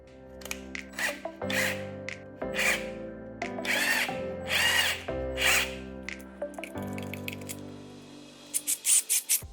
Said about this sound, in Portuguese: Vamos parafusar.